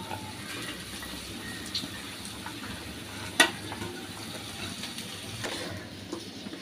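Snake gourd pieces with egg, garlic, onion, cumin paste, turmeric and salt fry in a pan with a steady, close sizzle, while a sharp clack of stirring rings out about midway and fainter scrapes follow.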